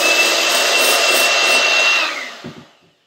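Electric hand mixer whipping cream: a steady, loud, close whirring drone that runs for about two seconds, then winds down and stops, followed by a couple of soft knocks.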